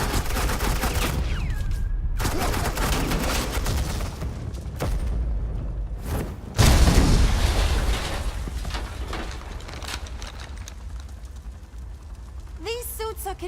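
Gunfire in the Batman: The Enemy Within video game, sustained bursts of shots and booms filling most of the stretch, peaking loudly midway, with voices talking over the action.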